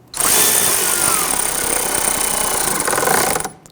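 A power tool drives a screw into the bumper impact pad of a Dodge Charger, one continuous close whirring burst of about three seconds that cuts off sharply.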